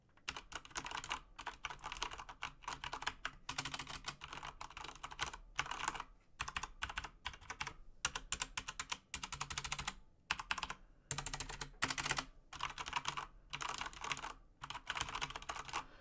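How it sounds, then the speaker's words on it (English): Steady typing on a HyperX Alloy Elite mechanical keyboard with tactile brown switches, quick irregular clicky keystrokes and short pauses, close up and fairly quiet, with no talking. "it has still tactile, so it does click before you hit"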